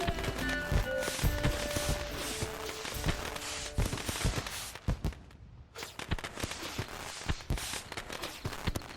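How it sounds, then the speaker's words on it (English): Horse hooves clip-clop in The Witcher 3, a steady run of close hoofbeats over background game sound, broken by a short quiet gap midway. "Saddled horses await in the stables."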